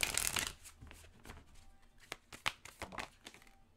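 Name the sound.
shuffling oracle cards to draw an advice card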